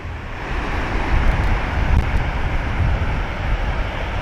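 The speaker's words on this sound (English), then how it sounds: "Crazy surf though." Ocean surf breaks at high tide along Vero Beach, a loud, continuous roar of waves mixed with buffeting wind on the microphone.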